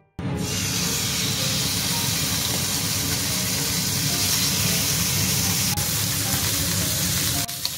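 A steak sears in an oiled pan, giving a loud, unbroken sizzling hiss that holds steady throughout, close up.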